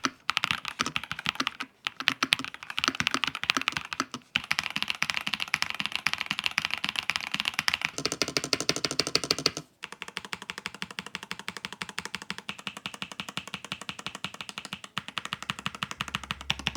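Rapid, steady clacking of keys on a mechanical keyboard, typed in bursts with brief pauses, close and clear with no talking.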